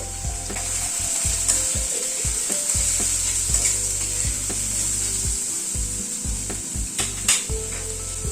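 Tomato being stirred in a frying pan of cooking dal masala with turmeric: a steady, close sizzle with repeated spatula scrapes and knocks against the pan, no voices.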